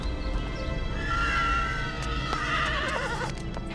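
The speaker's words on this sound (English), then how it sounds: "Something spooked the horses." A horse whinnies loudly, a long wavering neigh followed by a second shaky call, with faint shuffling and thumps underneath.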